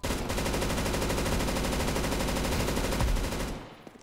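Sustained automatic gunfire from Counter Strike 2, a rapid, loud, continuous burst of shots lasting about three and a half seconds before cutting off abruptly, with a short faint tail and no voices.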